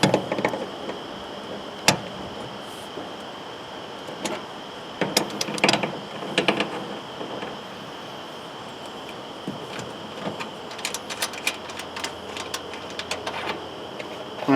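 Service valve caps coming off a mini-split unit, heard as sparse metallic clicks and small scraping and turning sounds close up over a quiet background hum, with no talk.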